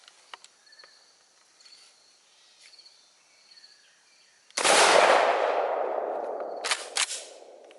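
A KelTec KSG 12 shotgun loaded with #8 shot fires once at close range during a no-choke pattern test outdoors, a single loud blast with a long decaying echo, followed by a couple of small clanks.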